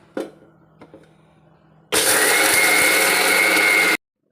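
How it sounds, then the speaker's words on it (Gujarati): An electric mixer grinder crushes peanuts in a loud, close two-second whirring burst that starts abruptly and cuts off sharply, after a few light clinks of the jar being set in place. "સિંગદાણાને હવે મિક્સરમાં ક્રશ કરી લેશું।"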